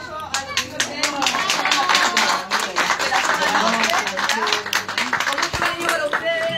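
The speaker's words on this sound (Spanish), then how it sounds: "vamos a darle un fuerte aplauso a los chicos que tenemos" An audience gives hearty applause for young cueca dancers, fast and dense clapping from a crowd, with voices and cheers mixed in under it.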